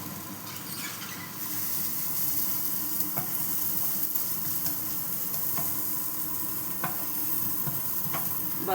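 Pea filling for matar kachori sizzles steadily in a hot pan while a utensil stirs and scrapes it at irregular intervals, close and continuous with no talking.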